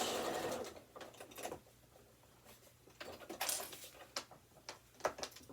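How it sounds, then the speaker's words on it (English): A sewing machine back-stitches a seam on a small fabric bookmark in short, close bursts of rapid stitching separated by brief pauses, fairly quiet. "One last little seam. Back stitch."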